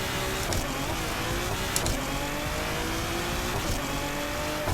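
Car engine in a driving video game revving hard and shifting up through the gears, a steady loud drone with brief dips at each gear change, heard close and alone.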